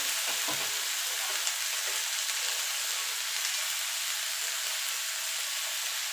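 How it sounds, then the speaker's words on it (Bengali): Bottle gourd peels are frying in a pan, producing a constant close-up sizzle with soft stirring and scraping sounds, especially near the start. "একবার হলো এইভাবে লাউয়ের খোসা ভেজে দেখবেন, লাউয়ের খোসা ফেলে না দিয়ে।"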